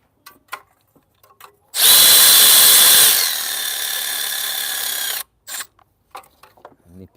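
A power ratchet drives bolts on a Ford Focus EcoBoost engine during a wet timing belt change: one loud, close whirring burst of about three and a half seconds, with small tool clicks and clanks before and after.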